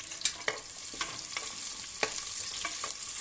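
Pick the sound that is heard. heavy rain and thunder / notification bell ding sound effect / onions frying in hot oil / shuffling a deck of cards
onions frying in hot oil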